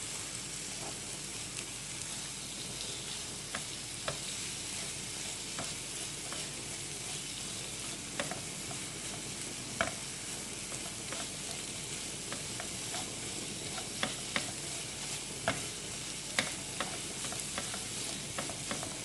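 Bay leaves, galangal and lemongrass frying in a pan, a continuous soft sizzle and hiss with scattered small scrapes and clicks as the spatula stirs, steady and close, no talking.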